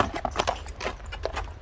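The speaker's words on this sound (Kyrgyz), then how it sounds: "Ат баягында онтогон ат күчтүү ат болот дечи эле. Кичине онтойт экен, а?" A horse groans low while its hooves clip-clop in a quick, uneven series of close, faint steps on hard ground.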